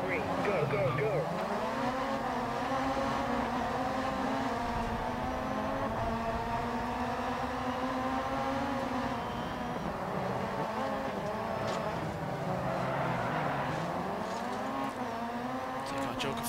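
An RX2 rallycross car races in the DiRT 4 video game, its engine revving hard with rising and falling pitch through gear changes, loud and continuous, while a voice talks over it.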